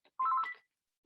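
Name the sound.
mobile phone ringing or beeping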